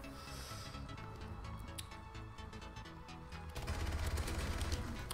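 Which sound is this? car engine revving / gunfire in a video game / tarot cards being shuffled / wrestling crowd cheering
gunfire in a video game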